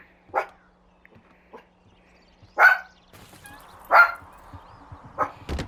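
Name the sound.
dog barking in the room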